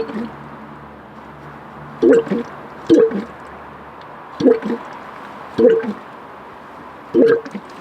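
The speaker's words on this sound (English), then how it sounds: "I can actually hear fuel pouring into that." Diesel fuel gurgles and drips into a Land Rover fuel filter during priming, coming as five short wet squishy bursts spaced about a second apart over a steady low background hum.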